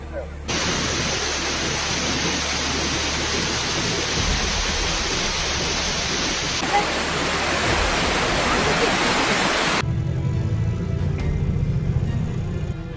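Floodwater rushes in a loud, constant roar mixed with moving earth from a landslide in China, a broad wall of churning noise that shifts abruptly partway through and stays heavy to the end.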